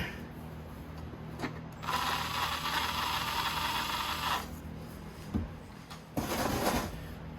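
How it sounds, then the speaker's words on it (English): A hand ratchet snugs down cover bolts on a Honda GX270 small engine during a rebuild, with two bursts of rapid close clicking, the first lasting a couple of seconds and the second shorter, separated by quieter handling noises. "just wind them down and then snug them up with a ratchet"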